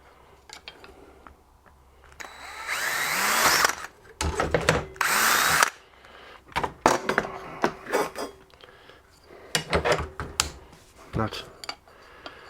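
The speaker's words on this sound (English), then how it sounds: "So we'll drill this one out 5mm." A power drill bores a 5mm hole in a car's wiper linkage, with several loud bursts of whirring and grinding separated by pauses, clicks and metallic clatter. Someone speaks between the bursts.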